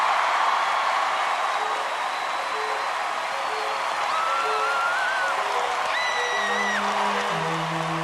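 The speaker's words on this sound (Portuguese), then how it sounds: "Foram longos minutos de aplausos, todos incrédulos com tanta beleza" Long audience applause, a sustained dense patter of many hands clapping at an even level, with brief tonal notes and faint whistles rising over it toward the end.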